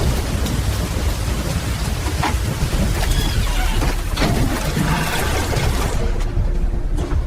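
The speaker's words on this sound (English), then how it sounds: "Just the rain." Heavy rain falls steadily on surfaces around a cargo ship, a dense hissing downpour with low rumbling underneath that continues unbroken throughout, the higher hiss easing slightly near the end.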